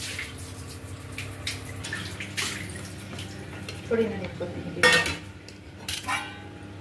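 Utensils clinking against dishes and pots while chicken dum biryani is served at home, a run of scattered scrapes and clatters with a couple of louder knocks near the end, under some talking.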